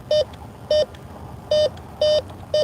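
Bounty Hunter Tracker metal detector sweeping for coins outdoors, giving five short, evenly spaced electronic beeps over a low hiss of background noise.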